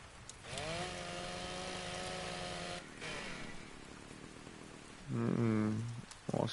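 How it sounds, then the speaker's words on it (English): A video game chainsaw's harmonic engine-like whine revs up and holds steady, drops, then a second higher-pitched burst revs briefly, all over a constant hissing background. "bring out the chainsaw, huh?"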